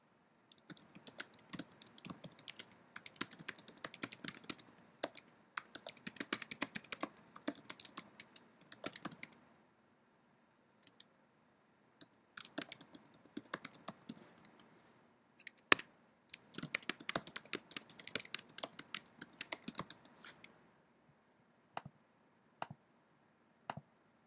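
Rapid clicking keystrokes on a computer keyboard come in several bursts of typing separated by short pauses, close and fairly quiet.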